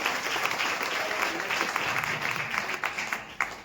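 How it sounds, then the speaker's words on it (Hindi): Loud applause from an audience at an award ceremony for team winners and leaders of Adosa Wellness company, a continuous wash of many hands that holds steady before thinning into a few louder individual claps near the end. "मेरे सिस्टम के लिए और मेरे अदोसा वेलनेस कंपनी के लिए जोरदार ताली होनी चाहिए दोस्तों"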